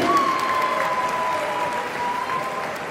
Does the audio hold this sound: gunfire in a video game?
no